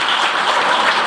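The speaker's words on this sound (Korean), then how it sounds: "이현성 의원님께 박수 부탁드리겠습니다" A brief burst of dense audience clapping at a Korean policy forum on veterans' compensation, greeting a lawmaker, Representative Lee Hyun-sung, with steady even applause and no voices over it.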